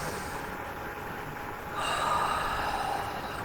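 A breath drawn in through a slightly constricted throat, a soft airy rush that swells midway and holds steady to the end, close and quiet.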